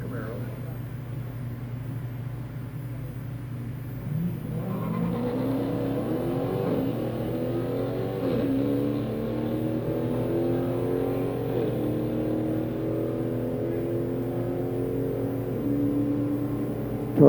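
Drag racing cars, one a Camaro, accelerate down the strip at a Wednesday night drags event, engines rising in pitch through gears at moderate distance beneath continuous announcer commentary.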